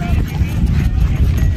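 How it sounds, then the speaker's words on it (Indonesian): Horse hooves clip-clop steadily as a horse is ridden across the volcanic sand plateau around Mount Bromo in East Java, with wind rushing and people talking over the continuous hoofbeats. "Lagi naik kuda guys"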